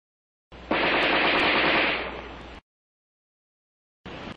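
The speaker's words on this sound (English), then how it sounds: "The rifleman fired 100 rounds of NATO ammunition in 30 seconds." An ArmaLite AR-10 7.62mm rifle firing NATO ammunition in rapid automatic fire, a loud continuous burst of about two seconds, then silence and the start of another burst.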